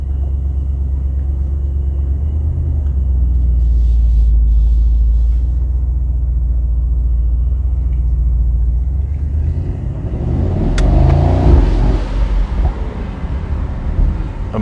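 A 2022 Mercedes SL 63 AMG pulls away and accelerates on a night drive. Its engine gives a steady, loud, deep rumble that swells and grows rougher near the end, with no talk.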